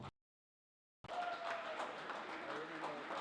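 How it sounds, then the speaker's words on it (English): After a short silence, a research-day audience breaks into a steady round of applause, dense and sustained to the end, with some voices mixed in. "big up means a big round of applause"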